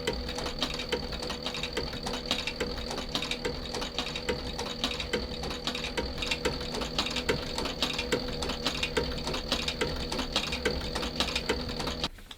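A sewing machine stitches a leather shoe upper in a rapid, even mechanical rattle of needle strokes, running steadily close up for about twelve seconds before stopping abruptly at the end.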